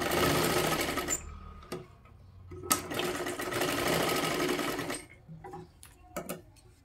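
A sewing machine stitches a double seam on a katori blouse in several close, loud bursts of rapid whirring, separated by short pauses and light clicks as the fabric is repositioned.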